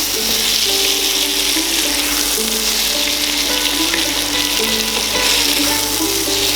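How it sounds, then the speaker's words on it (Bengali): Diced tomatoes hit a pan of mixed vegetables that is already frying, giving a loud, dense, continuous sizzle with stirring noise, close up and with no talking. "এবারে সবার শেষে এখন দিয়ে দেব ডুমো করে কাটা টমেটোগুলো।"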